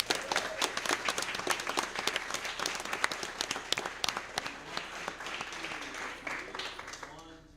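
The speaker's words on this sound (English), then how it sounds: "So let's give them a round of applause." An audience at a school board meeting applauds a children's choir, a crowd of sharp, quick claps that starts strong and gradually thins and fades, with voices audible toward the end.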